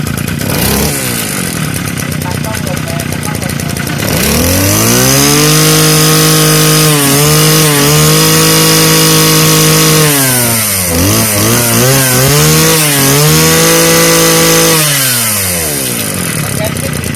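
A Kawasaki TD-24 small engine runs close by, revving up and dropping back several times in a raspy, buzzing whine before settling toward idle at the end.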